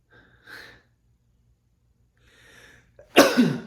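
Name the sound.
sneeze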